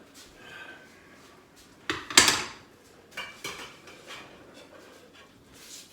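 Cooked carrots drained from a pot: a short burst of water splashing and metal clatter, with a few scattered clanks and bumps from the pot and lid in a quiet kitchen.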